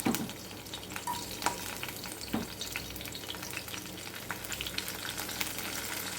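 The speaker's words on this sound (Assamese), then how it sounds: "এতিয়া মই ইয়াত দিম অকণমান কুটা নহৰু আৰু দুটামান নৰসিংহ পাত" Chopped garlic and curry leaves frying in oil, a steady close sizzle with crackling pops and a few stirring knocks, continuous and unbroken without any voices.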